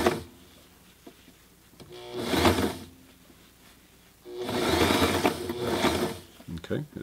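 Sailrite Ultrafeed LSZ1 sewing machine stitching over a serge seam, two bursts of rapid mechanical whirring and clatter separated by quiet pauses, close and clear, with small handling clicks at the end.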